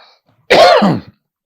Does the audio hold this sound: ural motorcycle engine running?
no